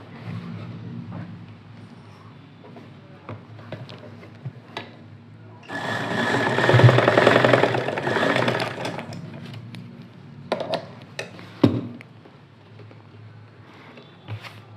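A sewing machine stitches thread onto a rose-design latkan tassel, a loud continuous whirring burst of a few seconds standing out from quieter handling noises before and after.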